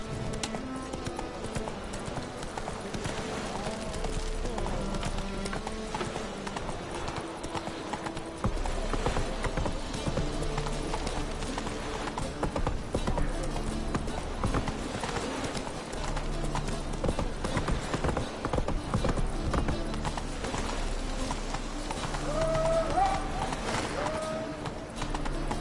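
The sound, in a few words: horse Roach running, hooves clip-clopping, from The Witcher 3 video game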